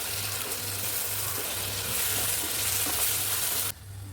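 Tomatoes hit a pan of frying garlic for a garlic-pepper kuzhambu, giving a steady, fairly loud broadband sizzle with a low hum beneath that cuts off abruptly near the end.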